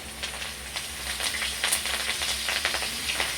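Curry leaves drop into hot oil with chopped garlic and sizzle in a steady, close hiss, with small crackles and pops scattered across it.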